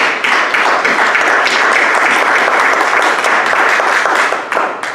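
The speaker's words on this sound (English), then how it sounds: "give everybody a round of applause" Audience at a school board meeting giving a steady, dense round of applause that fills the room evenly for about five seconds, with no talking over it.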